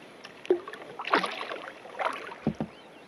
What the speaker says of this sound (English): So I'm paddling down again, turning around